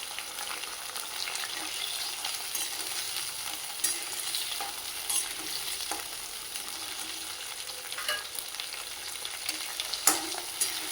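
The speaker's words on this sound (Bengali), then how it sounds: "চিংড়ি মাছগুলো আমি একটু তেলে ভেজে নেব হালকা করে" Shrimp fry in oil over a high gas flame, making a dense, steady crackling sizzle with faint scattered pops and stirring clicks, with no talk.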